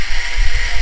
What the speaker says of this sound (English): So I got a little Dremel with a metal tip.